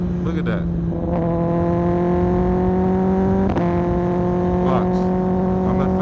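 A Kawasaki ZX10R motorcycle engine drones steadily and close, shifting its note with a sharp blip partway through as the rider downshifts from fifth to fourth, then settling into a slightly lower, even hum.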